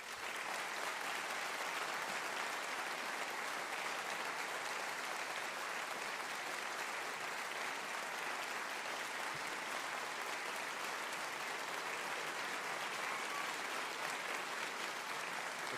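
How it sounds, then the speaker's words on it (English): Steady studio audience applause at a live music taping with a guitarist, a dense even wash of many hands clapping that holds at full strength for the whole stretch. "And now just applaud."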